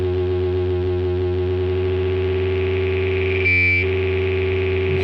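A Serge Resonant Equalizer synthesizer module drones with harsh, buzzy distortion and non-linear overtones; a steady layered tone is briefly joined by a brighter ringing burst before the sound settles back, loud and alone.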